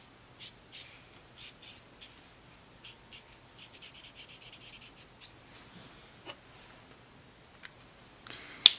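A Copic marker rubs across paper while smoothing a colored line, producing faint, close, intermittent scratchy strokes in short bursts, with a louder tap near the end.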